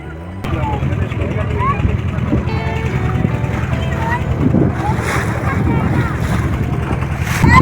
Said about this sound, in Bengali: এই যে সামনে ভটভটি আসছে এটাই আমাদের নিয়ে যাবে ঝড়খালি